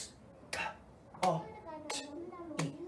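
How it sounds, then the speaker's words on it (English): A few slow, separate hand claps from a teacher during a phonics lesson, four distinct claps spaced about two-thirds of a second apart, each marking a syllable, with a voice sounding faintly between them. "See, I'm going to clap that."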